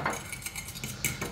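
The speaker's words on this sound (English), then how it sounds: "We're gonna give that a little mix" A spoon stirring salt and black pepper into an avocado nacho bowl, with a brief run of soft clinks and scraping against the bowl, close and fairly quiet, with no talking.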